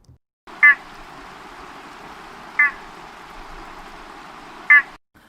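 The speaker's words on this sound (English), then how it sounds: "this is what the Malayan horned frog really sounds like." Three short, nasal, honk-like calls of a Malayan horned frog come in a recording, evenly spaced about two seconds apart over a low, steady background hiss.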